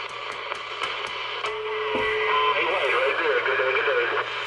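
A Realistic TRC-55 CB base station radio gives off a steady hiss of static with a low hum and a few sharp clicks, and distorted warbling voices come through the receiver.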